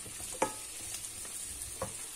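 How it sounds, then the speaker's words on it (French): Sliced zucchini tipped into a hot pan with onion and garlic, setting off a steady sizzle with a couple of sharp clatters as the pieces land and get stirred. "Et là, je verse les courgettes."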